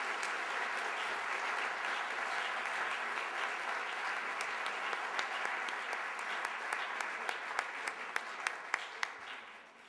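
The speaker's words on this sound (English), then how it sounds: "We applaud and thank you." A large audience at a literary awards ceremony applauds the staff in a long, dense wash of clapping that thins out near the end, with a few sharp individual claps standing out.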